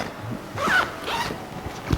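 Zipper on a DroneGuard BP 450 AW hard-shell drone backpack being pulled, giving a close, crisp zip rasp of about a quarter second followed by softer fabric handling and small clicks.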